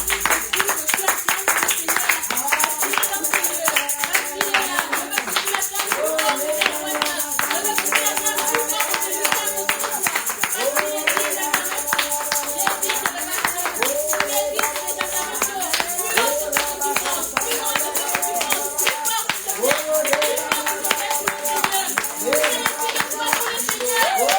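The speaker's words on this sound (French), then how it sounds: "On acclame pour le Seigneur." A church congregation claps in steady rhythmic unison during worship, with singing and music carrying along throughout, loud and sustained for the whole stretch.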